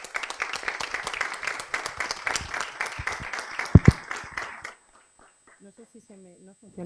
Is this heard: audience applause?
yes